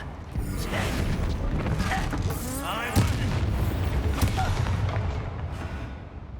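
A Confringo fire-blast spell explodes in the Hogwarts Legacy video game, a sustained roaring rumble with a sharp boom near the middle and lighter thuds after, fading at the end.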